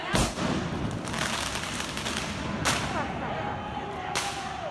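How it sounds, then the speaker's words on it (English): Sharp bangs of fireworks and aerial mortars thrown at a street protest in Portland crack out several times over a steady background roar, each burst ringing briefly before fading. "So that was a firework thrown by protesters."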